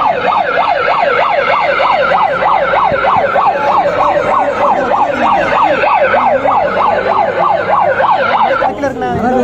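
A loud wailing emergency siren swoops up and down steadily inside a movie theater, sounding continuously with a brief break near the end.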